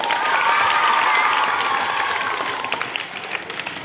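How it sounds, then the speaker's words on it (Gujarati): School students applauding a newly elected class leader at a school panchayat election, loud sustained clapping with crowd cheering and children's shouts, thinning slightly toward the end. "જોરદાર તાળી પાડી દો."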